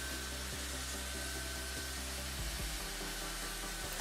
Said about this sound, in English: so I smoothed with a belt sander